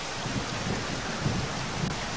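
Rain falls steadily in the Zero Sievert video game, a dense even hiss with soft low rumbles underneath that lasts a couple of seconds, with no one speaking.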